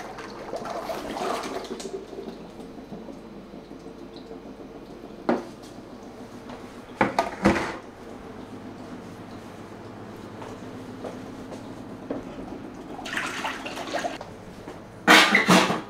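Kitchen equipment is rinsed under running water at a sink, with a steady wash of water broken by occasional clinks and clatters of dishes and utensils, close by.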